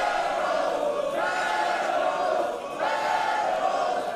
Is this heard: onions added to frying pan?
no